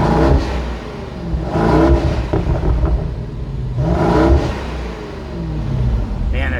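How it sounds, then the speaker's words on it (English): A 2017 BMW Alpina B7 engine revs up repeatedly, its loud, close, rising roars swelling and falling back to a rumbling idle. "Let's go ahead and get some rev time with Trish."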